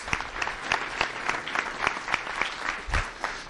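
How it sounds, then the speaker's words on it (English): Audience applause for sponsors at a school district State of the District event, steady dense clapping throughout with no talk over it. "Let's give a big round of applause to all of our sponsors."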